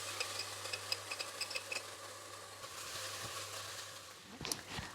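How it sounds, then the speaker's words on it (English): Ginger garlic paste frying in a pan for veggie fried rice, with a soft, continuous sizzle and a string of light clicks and scrapes from stirring, close by and fairly quiet. "at this point, I'm going to add some ginger garlic paste"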